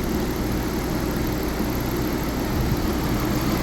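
A 2005 Audi engine idles after a timing belt replacement, giving a steady, even running hum that stays level throughout with no voices.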